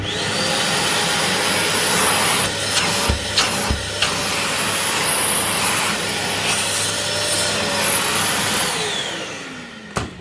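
Bosch GAS 1200L vacuum cleaner running on auto start after a repair: a loud, continuous motor roar with a high whine that holds for about ten seconds with brief dips in tone, then begins to wind down.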